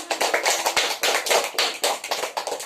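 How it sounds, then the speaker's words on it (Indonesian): Audience clapping at an Indonesian religious talk, a lively burst of many hands sustained and fairly close for a few seconds. "Oke, sekali lagi tepuk tangan untuk kita semua."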